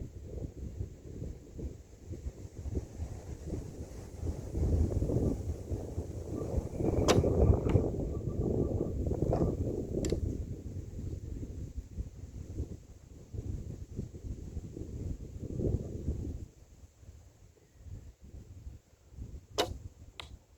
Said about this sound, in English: Must be the wind, it's just throwing everything off.